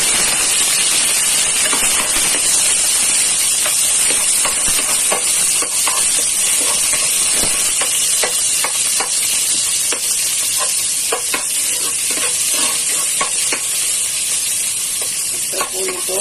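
Chopped onions sizzle loudly in hot oil in a casserole pot, a dense steady crackle with scraping stir strokes throughout, close and continuous with no talk.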